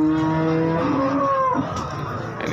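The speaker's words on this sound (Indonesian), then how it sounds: "Ini sapinya." A single long, loud moo from a nearby breeding cow at a cattle market in Jaken, Indonesia, rising then falling away, followed by quieter background noise.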